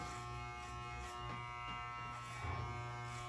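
Electric hair clippers buzz steadily while cutting a boy's hair in a crisscross pattern, a close, continuous hum with a slight surge near the end and no talking.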